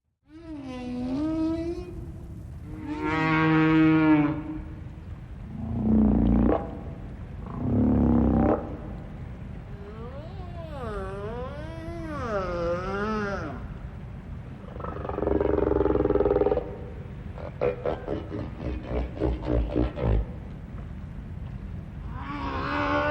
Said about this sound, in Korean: 이곳에서는 실제 귀신고래의 울음소리를 들을 수 있습니다.